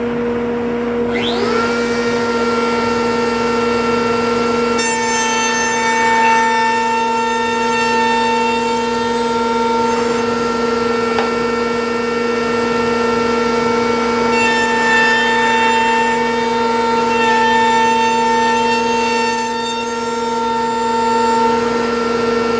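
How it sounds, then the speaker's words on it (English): Horizontal router table cutting a centered tenon in a wood frame piece, a loud, steady high-pitched motor whine with strong tonal hum and a dust collector running, continuous throughout. "let's see how well the horizontal router table works to cut a centered undersized tenon to fit this groove"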